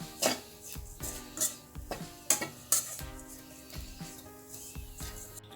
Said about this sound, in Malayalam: അതിനിടയിൽ ഞാൻ തേങ്ങ വറുത്തോണ്ടിരിക്കുന്നുണ്ട് കേട്ടോ.